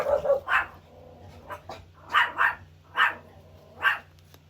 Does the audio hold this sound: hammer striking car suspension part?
no